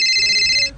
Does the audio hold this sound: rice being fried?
no